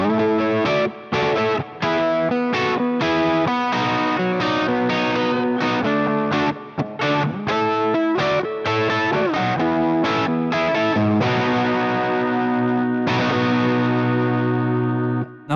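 Distorted electric guitar with chorus effect plays a riff on open strings, a loud, repeating chopped melody with short gaps between phrases, no talking.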